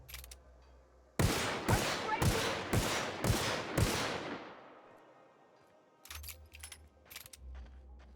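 Six sharp, evenly spaced shots from an upgraded rifle in The Outer Worlds ring out loud and close, each with a short ringing tail, followed by fainter clicks and clanks.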